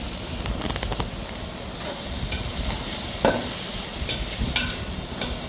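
Mint and coriander leaves sautéing in a pan while making biryani give a steady sizzle and hiss throughout, broken by a few sharp scraping stirs of a spoon against the vessel.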